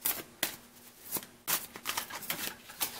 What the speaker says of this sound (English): I'm just giving them a good shuffle.